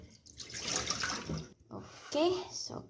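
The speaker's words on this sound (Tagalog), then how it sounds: "Tatanggalan lang natin siya ng tubig." Water splashes and drains from freshly washed pork in a sink in uneven bursts, close and moderately quiet, with a voice briefly heard among the splashes.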